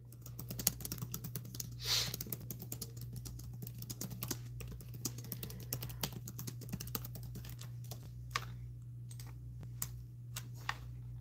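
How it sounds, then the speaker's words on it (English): Rapid, uneven clicks of typing on a computer keyboard, close by and fairly quiet, running steadily over a constant low electrical hum with no talking. "I'm typing the poll question here."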